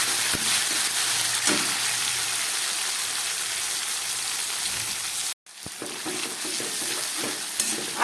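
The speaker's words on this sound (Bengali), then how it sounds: "গ্যাস কমিয়ে মশলাটাকে একটু কষিয়ে নিচ্ছি।" Ginger paste and crushed green chillies sauté in a pan over lowered gas, a close, steady hissing sizzle with spatters and a few utensil taps, briefly cut off midway before resuming.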